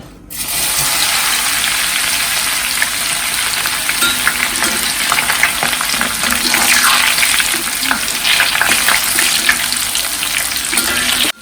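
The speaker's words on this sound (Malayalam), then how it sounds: "വെളുത്തുള്ളി ചതച്ച് കുറച്ച് ഇടാട്ടോ" Crushed garlic sizzling hard in hot oil while making Kerala-style spicy mixture, a loud, steady frying crackle close by that starts abruptly and runs without break.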